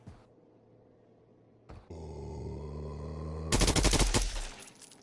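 Rapid gunfire in a zombie shooter video game bursts in loudly near the end as a dense volley of shots, after a hum and a brief thump, with no talk.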